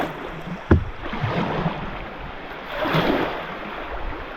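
Rough river water sloshing and rushing around a canoe on a wild river, a steady wash with wind noise, a sharp knock early on and a swell of splashing later.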